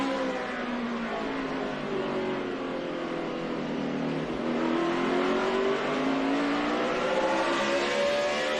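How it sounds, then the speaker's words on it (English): A NASCAR race car engine at the 2011 Goody's Fast Relief 500 drones steadily with rising and falling pitch as it revs through gears, loud and continuous without any voices. "You hear that engine."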